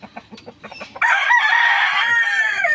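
Gamefowl roosters in a pen: soft clucks and scattered bird sounds, then one loud, sustained crow close by that rings out for nearly two seconds and tapers off.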